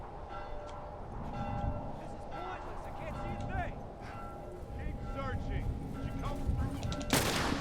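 Gunshots and combat noise in The Last of Us, a few sharp reports scattered over a steady game background, ending in a loud close blast, with someone talking over much of it.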